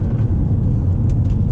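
Low, steady engine rumble from a 2013 Mercedes C63 driven in sports mode, heard from inside the cabin as a brief, continuous drone with faint road noise.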